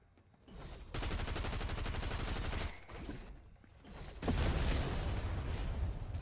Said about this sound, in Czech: Slyšel jsem střelbu.